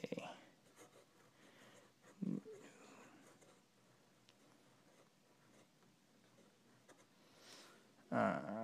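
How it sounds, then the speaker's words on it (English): A Noodler's Konrad ebonite fountain pen scratches faintly across paper in short strokes, quiet and close, with a few louder bumps and brief handling noises. "I will show you that now by doing a little bit of writing sample"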